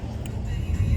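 Street traffic in Los Angeles, a car swishing past at moderate distance with a low engine rumble that swells toward the end over a steady background hum.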